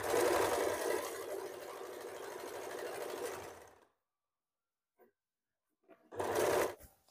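A sewing machine stitches a blouse in a rapid, steady run of mechanical chatter that stops abruptly, then after a pause starts again for a short closing burst, heard close and alone.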